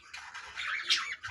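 Young budgerigar chicks, nine kept together on a rooftop balcony, give a brief burst of close, harsh squawking and chattering.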